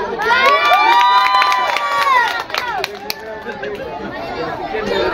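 Students at a school Islamic preaching competition for the Prophet's birthday break into loud, close cheering and shouting with children's voices and applause, swelling at first then settling into a busy chattering crowd.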